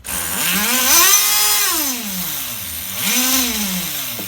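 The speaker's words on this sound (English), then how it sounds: "Can you guys hear that sickening freaking idle?" A small nitro engine on an HPI RS4 Nitro F150 RC car runs on a bench, buzzing loudly and close with its pitch swooping up and down in two surging waves as it hunts at idle.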